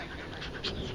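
A puppy pants steadily in short, soft breaths close by at an RV resort campground on Hilton Head Island, with faint background noise and no talking.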